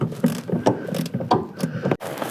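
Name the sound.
ratchet tightening 12 mm bolts on Honda clutch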